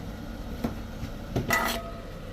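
A heavy uruli cooking pot handled on a kitchen stove, giving a couple of soft metallic knocks and a brief ringing clank, close by and otherwise quiet.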